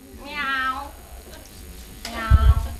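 Someone's voice imitates a cat's meow during an interview: two drawn-out, wavering meow calls, the second ending in a lower, rougher tone, close and clear.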